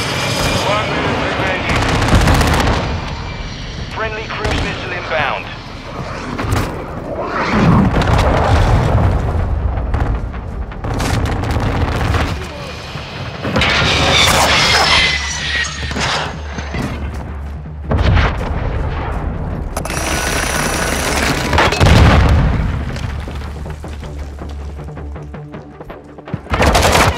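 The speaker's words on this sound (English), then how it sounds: "Friendly cruise missile inbound." Cruise missile strike explosions in Call of Duty Modern Warfare II: loud, dense, continuous booms and rumbling blasts layered with gunfire, sustained throughout with brief lulls and sharp bursts.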